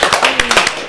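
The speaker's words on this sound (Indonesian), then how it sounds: "Kita beri tepuk tangan buat teman-teman tim kreatif lah." A studio audience gives a brief round of applause for a television show's creative team, a quick burst of claps at close range over about one second.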